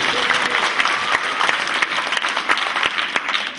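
Audience applause for a clown at a live magic show, a dense and loud continuous clapping from a crowd that holds steady throughout, with scattered sharper claps standing out near the listener.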